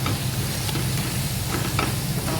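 Tomato, onion and garlic sautéing in a pan, a loud close dense sizzle with brief stirring scrapes over a couple of seconds, no voices.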